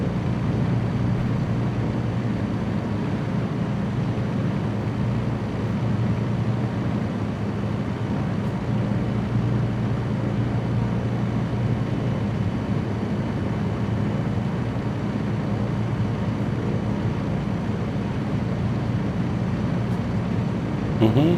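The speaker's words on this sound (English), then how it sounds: "You can see those like Rotax sounds that sound like the engine is dirty, not very refined." A Rotax engine drives a Rans S6S Coyote light plane in a flight simulator game, a steady rough drone with a throbbing low hum that continues unchanged, apparently under talk.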